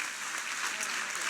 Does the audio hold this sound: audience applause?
yes